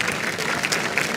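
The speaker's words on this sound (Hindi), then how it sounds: "तालियां बजाओ भाई" Audience applause at an interview event with javelin thrower Neeraj Chopra: dense, even clapping from a crowd filling the whole moment, close and lively.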